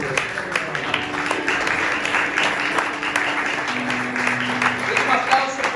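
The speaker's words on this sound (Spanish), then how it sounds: "Denle un aplauso al Señor esta mañana por eso." Sustained applause from a church congregation during a Sunday morning service, dense and even, with a held tone and some voices mixed in beneath the clapping.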